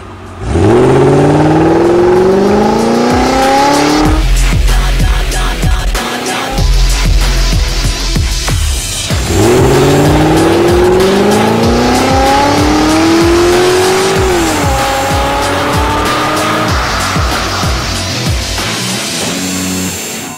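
A Corvette accelerates hard in two long runs, its engine rising in pitch through the gears with brief drops at each shift, loud and close with tire noise and no talking.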